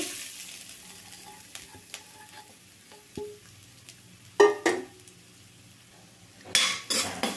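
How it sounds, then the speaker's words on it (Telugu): Grated coconut frying in ghee in a pan, a faint, soft sizzle broken by several sharp clinks and scrapes of a metal spoon stirring against the pan. "నెయ్యిలో కొబ్బరిని వేయించుకోవడం వల్ల చాలా బాగుంటుందండి, మంచి ఫ్లేవర్ ఉంటుంది"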